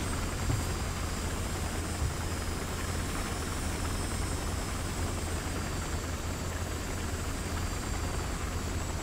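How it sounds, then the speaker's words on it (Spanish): A helicopter flies in a video game, a steady rotor and engine drone with a low pulsing thump throughout, continuous and fairly close, with no talk. "Helicóptero."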